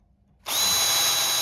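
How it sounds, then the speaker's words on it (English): A power drill bores into hardwood timber for a planter box, kicking in sharply after a brief quiet and then whining loud and constant right up close. "Just go in a little bit, come out, let the drill clean out, and then go through."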